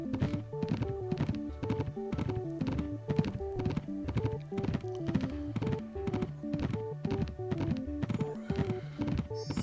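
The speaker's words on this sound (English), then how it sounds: "Kicked horse, got back on my horse." Horse hooves clip-clopping in the Villagers & Heroes online game, a steady, regular run of hoof beats repeating evenly over tonal game music, with no talk over it.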